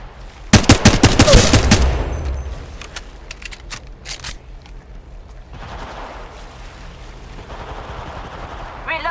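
Rapid automatic gunfire erupts at close range in the Apex Legends battle royale game, followed by scattered single shots and then quieter background battle noise.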